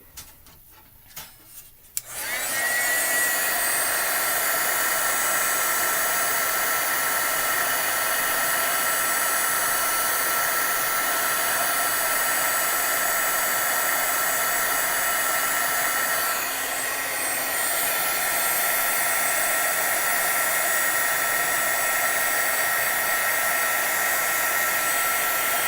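A heat gun blasts a steady, loud, close-up roar as it sets glitter embossing powder on a handmade fall card, kicking in after a couple of seconds of quiet handling noises and running without a break.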